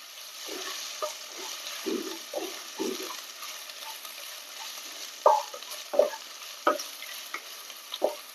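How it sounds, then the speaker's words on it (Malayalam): Chopped onion sautéing in a pan with ginger and garlic for a chicken stew, a soft sizzle broken by several distinct stirring scrapes and clinks toward the end, close and without speech. "ഇതിലേക്ക് നമുക്ക് ചെറുതായി അരിഞ്ഞു വച്ചിരിക്കുന്ന സവാള ആഡ് ചെയ്യാം"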